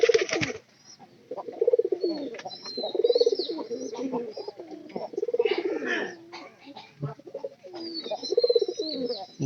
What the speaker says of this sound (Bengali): সবসময় এরকম যুদ্ধ থাকেই, কম বেশি যুদ্ধ আমাদের কবুতরের ঘরের সামনে থাকেই